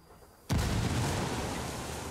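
A grenade goes off in the video game Ghost Recon Wildlands: a sudden close, loud blast after a quiet moment, followed by a long rumbling roar that fades slowly, with no talking.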